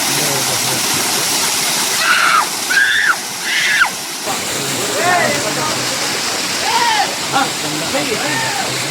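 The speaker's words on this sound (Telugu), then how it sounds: "Such a beautiful place in కోయబల్ water falls." Rushing water from the Koyabal waterfalls fills the scene as a steady, loud roar, with voices talking and calling out over the constant flow.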